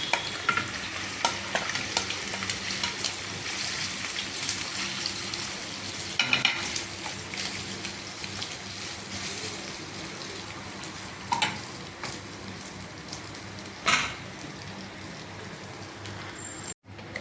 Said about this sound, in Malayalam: നമ്മളുടെ എണ്ണ ചൂടായിട്ടുണ്ട്. സോസേജ് ഇതിലേക്ക് ഇടാം.